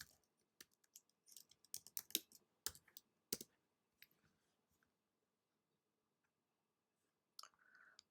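Typing on a computer keyboard in a quiet room: a quick run of soft, close key clicks in uneven bursts, then a pause and a short final flurry, with no talk.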